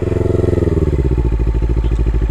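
A Suzuki GS500EY motorcycle engine runs close by, loud and throbbing, its low rumble settling into a fast, even pulsing beat as the revs steady over the short stretch.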